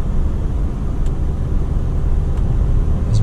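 A 1995 Audi A-series car with a manual gearbox cruises steadily in fifth gear at low revs, its engine a continuous low rumble heard from inside the cabin with no talking.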